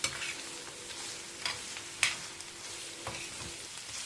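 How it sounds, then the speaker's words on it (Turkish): Minced meat and vegetables sizzle steadily in a pan being sautéed, with a soft continuous fry broken by a few sharp stirring clicks and scrapes, fairly quiet and close, no talking. "Şu an kıymam ve sebzelerin birlikte güzelce kavruluyor."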